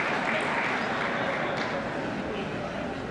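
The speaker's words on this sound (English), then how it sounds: "we had one member of Congress stand up and applaud" Applause in the chamber of Congress during the 1999 State of the Union Address forms a steady wash of clapping that carries on evenly throughout.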